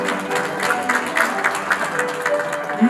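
Applause from the audience at a Korean new technology and new product certificate award ceremony, a steady wash of clapping over a faint tonal background, moderately loud and continuous.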